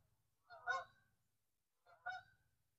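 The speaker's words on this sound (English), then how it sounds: "Those are the geese." Geese on a river give two loud, separate honking bursts about a second and a half apart, with a low rumble of background noise beneath them.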